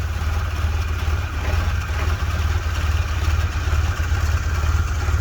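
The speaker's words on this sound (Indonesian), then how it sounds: "Mesinnya halus." A steady, low carburetted Suzuki engine idle rumbles close by with a slightly uneven throb, continuous and fairly loud with no voices.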